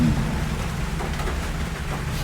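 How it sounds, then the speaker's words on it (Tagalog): Rain falling and dripping in San Juan, Batangas, making a loud, constant wash of patter close by, steady throughout with no voices. "Kasi pumapatak yung ulan."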